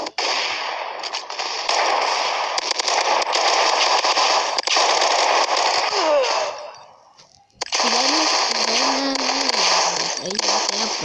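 Rapid gunfire in a Mask GU video game, dense bursts of shots packed close together and loud, a brief lull near the middle before the firing resumes with a voice talking over it.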